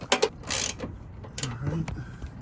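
A ratchet wrench clicks in quick bursts while tightening down the coilover on a Honda S2000, with two short rapid runs of close, loud ratcheting separated by pauses.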